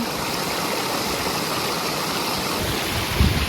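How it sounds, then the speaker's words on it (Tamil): Rainwater spilling from a pond across a road on Pungudutivu island in Jaffna rushes in a steady, loud broadband wash, with a brief low thump near the end. "இப்போ மழை என்றதால இந்த குளத்தில் வந்து தண்ணி ரம்பிட்டு ரோட்டில் இந்த சைட்லேருந்து மற்ற சைட்டுக்கு தண்ணி போய்கிட்டு இருக்கு"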